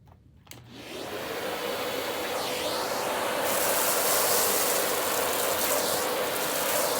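An Oreck DTX 1300 vacuum cleaner fitted with a soft upholstery brush switches on after a brief pause and runs as a loud, steady, close whirring roar with a high whine for the rest of the clip.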